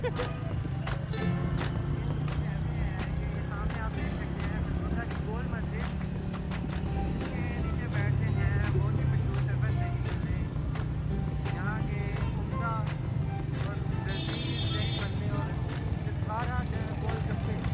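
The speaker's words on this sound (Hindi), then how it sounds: "मैं इसमें देख के चला रहा हूँ बाइक।" A motorbike ridden along a busy road in Sargodha, Pakistan during Eid, its engine drone steady and close throughout, mixed with passing traffic, horns and street noise.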